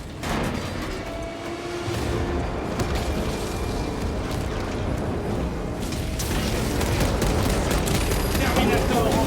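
Gunfire and explosions in the video game Warhammer 40K Space Marine 2, a dense rumbling fusillade of bursts and booms that grows heavier toward the end, with voices speaking over it.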